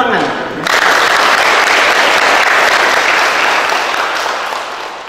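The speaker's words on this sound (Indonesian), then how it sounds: "Tepuk tangan." After a brief voice, audience applause breaks out suddenly and loudly, a dense roar of clapping that holds steady and then tapers slightly.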